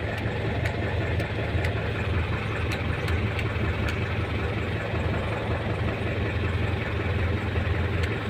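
A mini dump truck engine runs at a steady, loud idle, with a constant low rumble and faint ticking throughout.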